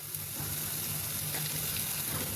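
Bora, small fritters, fry in a pan with a dense, even sizzle that holds steady and close for the whole moment.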